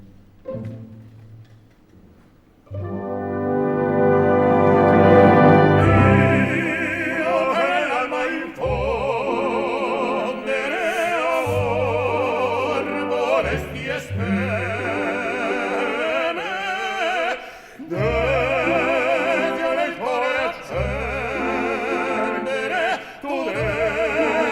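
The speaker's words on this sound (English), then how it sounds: "a baritone and a tenor sing a duet about their undying friendship" A tenor and a baritone sing the friendship duet from Verdi's Don Carlos with orchestral accompaniment. The recording swells in after a quiet start, then carries sustained sung phrases over full, loud orchestra with a few brief pauses between passages.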